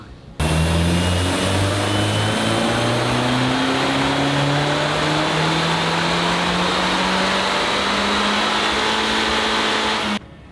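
A Honda CR-Z fitted with a swapped Civic Si turbo engine accelerates hard, its loud, steady engine note climbing in pitch for about ten seconds with no voices.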